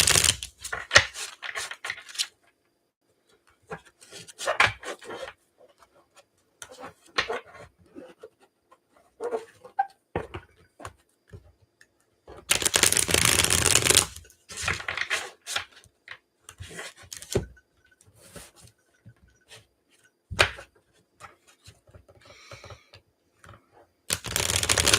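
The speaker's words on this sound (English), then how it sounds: "I'm going to be quiet and shuffle for Debbie." Tarot deck shuffled quietly by hand in intermittent bursts, short rubs and riffles spread across a mostly silent stretch, with a couple of longer, louder shuffling runs close to the mic and no talking.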